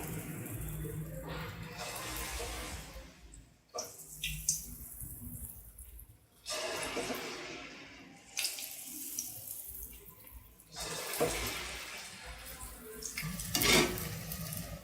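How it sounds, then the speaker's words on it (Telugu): Punugulu batter balls deep fry in hot oil, a loud hissing bubble that swells and fades in several bursts with brief quieter gaps, heard close up. "ఈ విధంగా రౌండ్ బాల్స్ లాగా వేసుకోవాలి. వేసుకుని డీప్ ఫ్రై చేసుకోవాలి."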